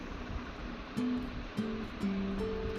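Chicken fries with ginger garlic paste in a pan, giving a steady, close, broad hiss that swells slightly a few times, with faint tonal notes beneath.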